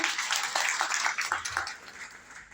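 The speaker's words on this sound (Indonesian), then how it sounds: "Bisa lebih dahsyat lagi tepuk tangannya" A church congregation applauds a pastor at a Sunday worship service, a brief rattle of many hands clapping at moderate loudness, tapering off toward the end.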